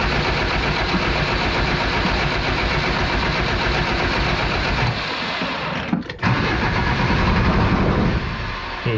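The 2.5TD diesel in a Jeep XJ, with a fuel pressure problem, cranks continuously without catching. The loud, close churning pauses briefly once, then resumes.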